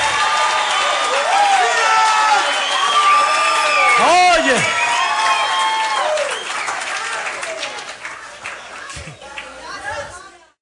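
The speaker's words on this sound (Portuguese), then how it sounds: "você está aqui aplaudindo e dizendo amém?" A church congregation applauds loudly with cheering, whoops and excited chatter, sustained for several seconds before tapering off; a voice speaks over the crowd near the end.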